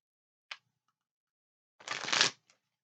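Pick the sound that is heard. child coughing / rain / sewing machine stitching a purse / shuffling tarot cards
shuffling tarot cards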